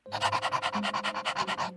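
A dog pants rapidly with its tongue out, about a dozen quick, even breaths in steady rhythm, close and clear with nothing else heard.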